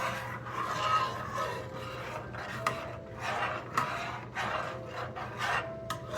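A spoon scrapes and stirs thickening custard filling for tarte à la bouillie in a pot, a close, continuous rubbing scrape in irregular strokes over a low steady hum, with no talking.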